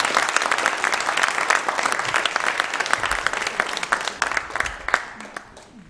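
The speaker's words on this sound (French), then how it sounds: "on va t'applaudir tout le monde" Audience applause at a live variety show in Couzeix, a steady round of clapping from a crowd filling the room, close and sustained before thinning out toward the end.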